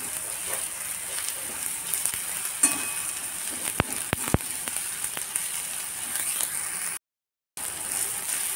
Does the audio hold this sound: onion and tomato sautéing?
yes